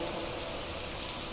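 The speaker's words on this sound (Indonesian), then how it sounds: "Setelah lama berteduh, hujan tak kunjung berhenti." Steady rain falls without a break in an Indonesian horror radio drama, a dense even hiss of drops close and constant with no voices.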